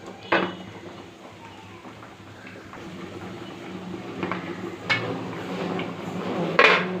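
A lid is set onto a pot of simmering kofta curry with meatballs, giving a few sharp metallic clinks and clatters at intervals over a steady low kitchen hum, with no talking.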